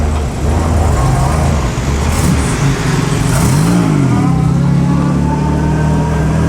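A classic car arriving at the 2008 Concorso d'Eleganza, its engine a loud, steady close rumble that swells briefly midway, with a rising and falling pitch sweep before settling back to a constant drone.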